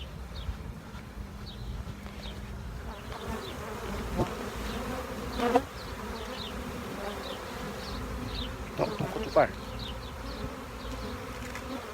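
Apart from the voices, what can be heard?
swarm of honeybees being shaken into a new hive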